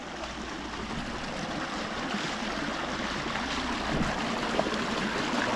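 A jungle river flowing past a camping spot, a steady broadband rush and gurgle of water, close and continuous without talk.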